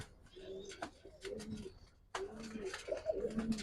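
Giribaz pigeons coo from a loft in repeated soft, throaty rolls, close and fairly clear, with a short quiet gap midway before the cooing picks up again.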